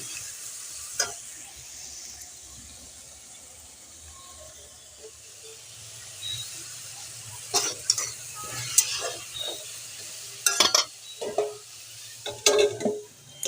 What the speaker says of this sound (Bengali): এখানে দেখো সবজিগুলো একে একে করে লবণ দিয়ে ঢাকা চাপা দিয়ে দিয়ে ভেজে নিচ্ছি